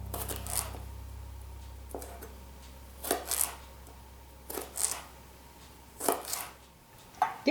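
Baby cucumbers sliced thinly with a knife on a board: clusters of crisp, close chopping taps in short bursts, separated by quiet pauses.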